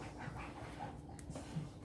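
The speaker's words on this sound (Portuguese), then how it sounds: "tem um cachorrinho meu fazendo a maior bagunça aqui atrás." A small dog pants softly in short, quick breaths and rustles about nearby behind the scene. The sounds are faint and close over a low room hum.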